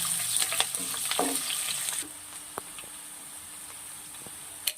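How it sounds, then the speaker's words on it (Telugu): Chopped onions and green chillies frying in a pan, a steady broadband sizzle with scattered stirring clicks, louder for the first two seconds then quieter and even, with no talk. "ఒక కప్పు ఉల్లిపాయ ముక్క వేసుకోవాలి నాలుగు పచ్చిమిర్చి వీటిని బాగా వేయించాలి"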